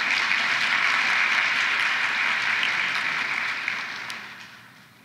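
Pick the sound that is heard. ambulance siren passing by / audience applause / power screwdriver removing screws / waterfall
audience applause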